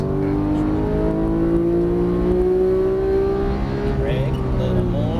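A Porsche 991 GT3 accelerates hard on a track, engine pitch climbing steadily in one sustained rising howl, close and loud, with an instructor's voice talking over it.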